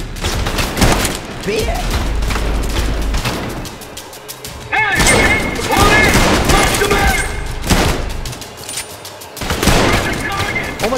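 Video game gunfire comes in loud, repeated bursts separated by brief lulls over about eleven seconds, with someone talking over the shots.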